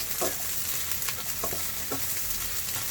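Snails cooking with ginger in a pan, a steady frying sizzle with several scraping stirs at irregular intervals, close and fairly loud with no talking.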